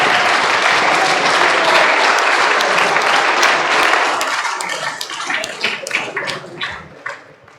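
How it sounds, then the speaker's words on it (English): Wedding guests at a Yarra Valley ceremony break into loud, dense applause that holds strong for several seconds, then thins into scattered individual claps and fades out. "She will! Give her a clap."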